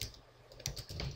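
Fingers type code on a computer keyboard during Unity3D programming, with a short quiet gap followed by a handful of crisp, close key presses.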